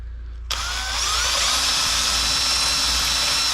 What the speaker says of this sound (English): just drill those out